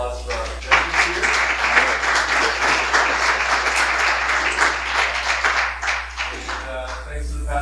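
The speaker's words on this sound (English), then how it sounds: "let's give one more round of applause for our judges here." An audience at a Pasadena group meeting breaks into sustained applause, a dense, fairly close wash of clapping that holds steady for several seconds and then tapers off near the end, with a voice briefly heard over it.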